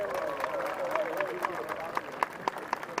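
Applause at a Ferrari Challenge Europe podium ceremony in Spielberg, a steady patter of clapping with sharper individual claps growing more distinct, while a commentator talks over it throughout.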